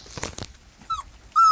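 A young puppy whimpers in short, high, thin whines, two distinct cries near the end after some soft shuffling and brief yips, close by and with no speech.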